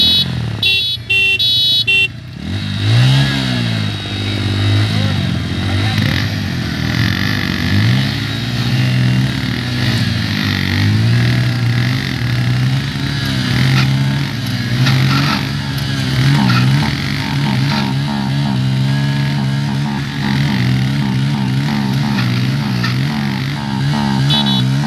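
Two motorcycles, a Pulsar N160 and a Raider 125, rev hard during a rope tug-of-war contest, their engines droning loudly and continuously with rising and falling pitch throughout, no talk over them.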